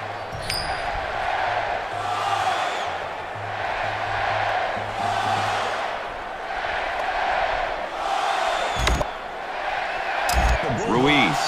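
A packed college football stadium crowd in Austin, Texas roars steadily before kickoff at a Texas game against Mississippi State, with a broadcast commentator talking over the sustained din and a few brief clanks and pings near the end.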